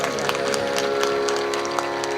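Audience at a Shiv Katha ceremony in Balapur claps together for the swamis and their team, a dense, steady burst of hand clapping with sharp individual slaps standing out.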